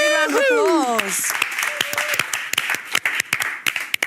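Audience applause and cheering for a four-time Olympic medalist: a voiced whoop in the first second, then close, sharp hand claps that thin out into scattered separate claps toward the end.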